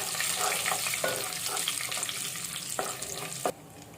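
Curry leaves crackle and spit in hot oil for a tomato rasam tempering, a continuous close sizzle broken by a few sharp pops before the frying suddenly drops off near the end.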